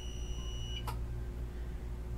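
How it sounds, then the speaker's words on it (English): A computer power supply gives a single short, sharp electronic beep, clear and alone over a steady low hum. "power supply just beeped at me"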